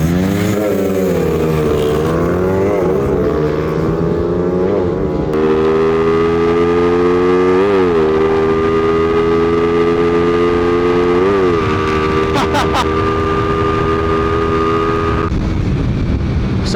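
Stock-engine underbone motorcycles in a drag race scream past loudly, their high engine notes rising steadily through the gears with brief shifts, one rider pulling ahead, the racket filling the whole stretch with no talk.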